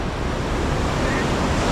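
Ocean surf rolls onto a swimming beach in Vung Tau, Vietnam, a continuous loud wash of breaking waves mixed with gusty wind buffeting the microphone, no clear individual crashes.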